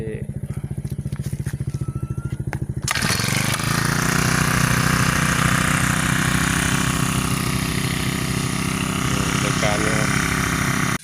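A brush cutter in a rubber plantation: several rhythmic pull-start cranks, then the small two-stroke engine fires and settles into a loud, steady buzzing idle close by, with someone speaking over it.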